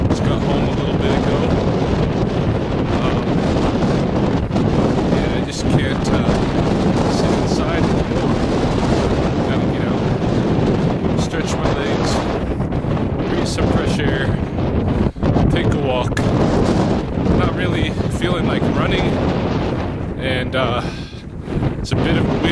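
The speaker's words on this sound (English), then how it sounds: "It's a bit of wind this evening" Strong evening wind buffeting the microphone on a night hike, a loud, constant roaring rumble that persists throughout with gusting swells and no clear pauses.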